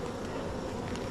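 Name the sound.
honeybees buzzing at a backyard hive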